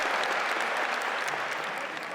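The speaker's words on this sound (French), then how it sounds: "Les Spetsnaz, on les applaudit." Steady, dense applause from a sizable audience at a commando competition in Russia, honouring Spetsnaz special forces: a continuous wash of many hands clapping at once, moderately loud throughout.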